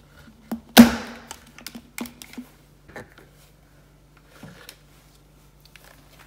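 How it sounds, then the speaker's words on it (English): An Instant Pot lid is set down and closed on its base, starting with one sharp clack, then a few lighter taps and clicks in a quiet kitchen, with a faint steady hum beneath. "Now close the lid."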